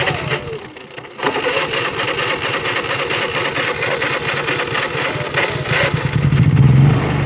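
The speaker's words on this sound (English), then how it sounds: "So now I'm gonna go ahead and start these 3 generators up and get this well pump going." Honda generators, a big electric-start unit among three run in parallel for a well pump, start up in succession and settle into a loud, steady engine drone that swells near the end, with no talk over it.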